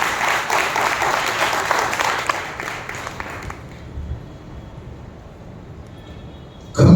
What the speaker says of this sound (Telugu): నమ్మిన వారు బిగ్గరగా చప్పట్లు కొట్టి ప్రభువుని మహిమపరచండి బిగ్గరగా